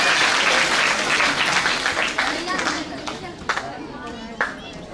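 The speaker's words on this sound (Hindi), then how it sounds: "तालियों की गड़गड़ाहट बजा दीजिए।" An audience at an awards event applauds warmly as a motivational speaker is welcomed onto the stage, with loud, dense clapping that thins into scattered claps toward the end.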